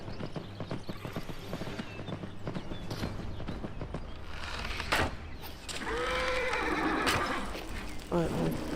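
Horse neighing and whinnying in the video game Skyrim VR, with clip-clop hoofbeats throughout and a clear rising whinny late on; someone talks over much of it.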